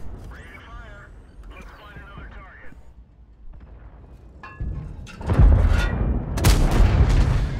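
Tank cannon fire in a tank battle video game, coming after a stretch of commentary: a heavy booming blast followed by another loud, rumbling shot in the last few seconds.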